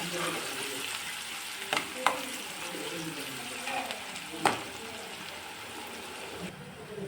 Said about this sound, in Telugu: ఇప్పుడు ఉల్లిగడ్డ బ్రౌన్ అయిపోయింది